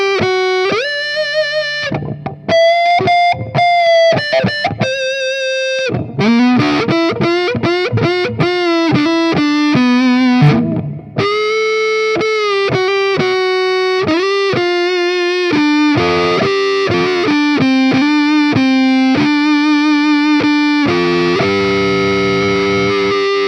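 Electric guitar played through a Fender Tone Master Pro set to a "woman tone" preset, volume and tone controls fully up: a thick, distorted lead with sustained bends, quick phrases and brief pauses, loud and alone.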